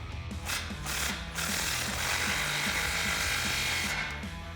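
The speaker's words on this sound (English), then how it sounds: "Go ahead and grab your 15mm socket. We're going to tighten this down." Power tool with a 15mm socket tightening a muffler clamp on a 2019-2021 RAM 1500 5.7L, a loud continuous whirring drive with a rapid ratcheting pulse, close up, no talking.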